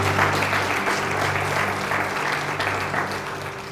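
A church congregation applauds during a Spanish-language sermon, a steady, dense wash of clapping that fills the room at constant loudness, with a low hum from the sound system underneath.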